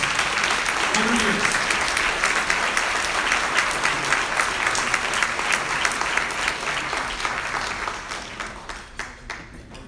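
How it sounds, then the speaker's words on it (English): An audience at a valor awards ceremony applauds an honoree in sustained, loud clapping that slowly thins and fades over about ten seconds, with faint crowd murmur mixed in. "please, a round of applause for Captain Gonzalez."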